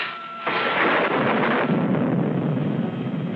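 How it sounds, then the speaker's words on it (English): Thunder rolls in a deep, loud rumble that swells suddenly and keeps booming without a break, with no voices over it. "Just like that thunder, only worse."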